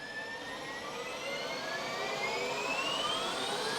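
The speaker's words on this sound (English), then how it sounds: "recording the helicopter, which like it makes the best sound starting up" A helicopter's turbine engine spools up on start, its whine climbing steadily in pitch and growing louder over a constant rushing roar, close by with no voices.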